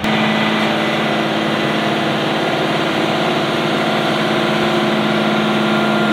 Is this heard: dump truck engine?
yes